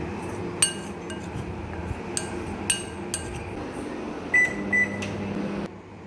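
A microwave oven runs at full power heating green chilies tossed in oil, giving a steady close hum with scattered light clinks of glass and dishes before the hum cuts off near the end.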